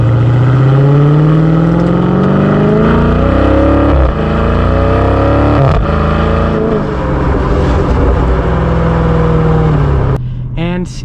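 A 2020 Dodge Challenger Scat Pack Widebody in manual mode roars loudly up through the revs, with distinct dips and changes in pitch at each upshift, heard from close by throughout.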